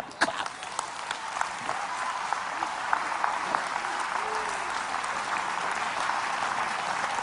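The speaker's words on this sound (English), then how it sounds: "Clap, clap, clap." Church congregation at a sermon applauds steadily, a dense, sustained wash of clapping with a few sharper nearby claps, filling the whole hall.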